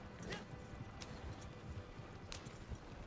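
Horse hooves clip-clopping on the ground in Red Dead Redemption 2, a quiet, uneven patter of hoofbeats with no speech, heard faintly.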